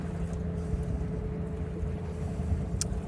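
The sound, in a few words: sailboat motoring under engine power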